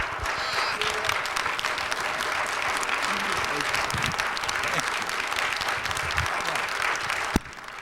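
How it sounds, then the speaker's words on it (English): A large audience applauds, steady and sustained across the whole stretch, with one sharp knock near the end. "Give God a round of applause."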